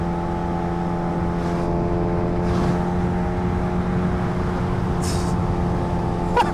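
A Kawasaki Ninja H2R motorcycle engine drones steadily at speed in sixth gear, a loud, close, sustained tonal hum with rushing wind noise throughout and no change in pitch.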